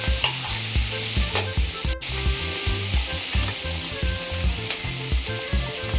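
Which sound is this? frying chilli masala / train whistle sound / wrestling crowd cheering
frying chilli masala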